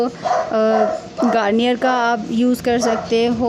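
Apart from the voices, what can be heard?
dog barking in the background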